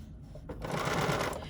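A BERNINA sewing machine stitching with an edgestitch foot gives a fast, even mechanical whir close by, swelling slightly as it runs, with a soft rustle of fabric beneath.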